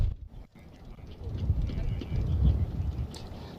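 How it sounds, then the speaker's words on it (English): Strong wind blows outdoors at a fire scene, buffeting the microphone with a low, rumbling roar that swells in gusts over about three and a half seconds. "you can hear it right there in that interview, how windy it was out here"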